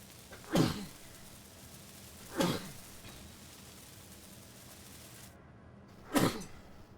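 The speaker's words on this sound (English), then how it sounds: "My apologies for that sneezing sound, if that microphone picked that up." Three sneezes from one person, spaced apart and fairly close to the microphone, each a sharp burst against a quiet background.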